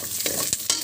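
Garlic sizzles in hot oil in a pan while being stirred, with short scraping strokes over a steady faint frying hiss.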